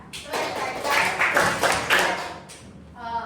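Several hand claps in a rhythm game, a few sharp distinct claps close by, with faint voices in the background.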